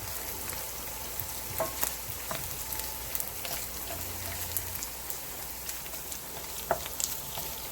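Chicken fried rice frying in hot oil, giving a steady, close sizzle with scattered crackles and pops, running alone with no talk.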